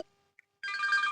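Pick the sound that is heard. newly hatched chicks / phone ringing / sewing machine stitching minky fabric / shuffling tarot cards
phone ringing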